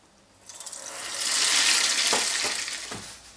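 Food frying in oil in a small pot, a loud close sizzle that swells suddenly as the food goes in and stays steady, with a few sharp spits and pops toward the end.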